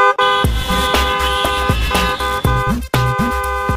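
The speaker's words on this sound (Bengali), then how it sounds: "এই যে আপনি এতক্ষণ হর্ন দিলেন," A vehicle horn honks again and again in loud, flat blasts, some long and some short, with only brief gaps between them and no talking.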